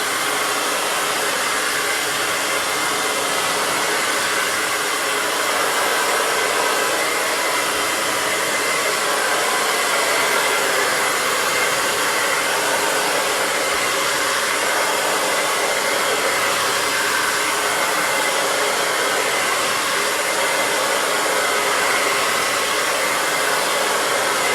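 A hair dryer blows steadily on natural hair during a silk press blowout, with the brush drawn through the stretched roots; the close, loud, even whoosh runs unbroken for the whole stretch with no voices.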